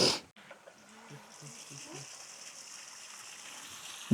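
Water from a newly switched-on fountain runs in a park in Silchar with a steady, faint hiss after a brief moment of quiet, with low voices murmuring nearby.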